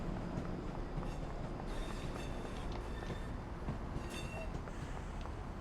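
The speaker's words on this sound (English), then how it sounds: "I hear a train moving." A train departs in Train Sim World 5, giving off a continuous low rolling rumble with faint wheel clatter and a few thin squeals over the steady noise.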